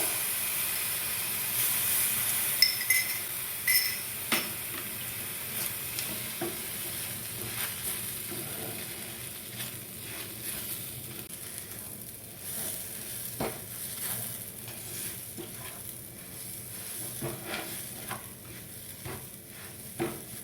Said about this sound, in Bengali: বারবার দু চামচ করে দুধ দিতে হবে আর নাড়তে হবে